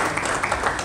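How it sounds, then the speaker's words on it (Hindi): Applause from a seminar audience welcoming a guest speaker to the dais, a brief, dense patter of many hands clapping together at moderate loudness. "जोरदार तालियों से आपका स्वागत"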